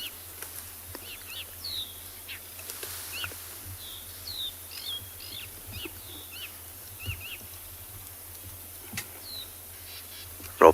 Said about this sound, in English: there's some lovely evening sounds. Drongos and crickets mainly.